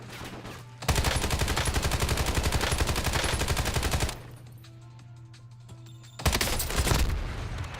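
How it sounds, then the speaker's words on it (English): Video game shooter gunfire: long sustained automatic bursts of rapid shots, loud and close, broken by a short lull before another sustained burst resumes. "Taking effective fire!"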